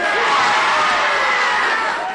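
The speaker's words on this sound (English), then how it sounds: "There were cheers, too, in Modesto" A crowd in Modesto cheers after a murder verdict, a dense, loud wash of voices and shouting that holds steady for a couple of seconds.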